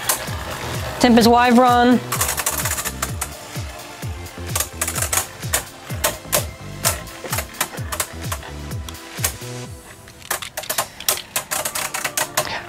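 Beyblade tops launched into a stadium for a speed round, then a dense run of rapid plastic clacks and clattering collisions that thin out into sparser hits as the spinning slows, with a voice calling out a name early on.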